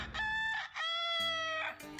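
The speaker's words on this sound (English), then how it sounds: "do you know what Tony the Rooster is telling you?" A rooster crows loudly and close by, one long drawn-out cock-a-doodle-doo with a clear ringing tone, heard alone without any talking.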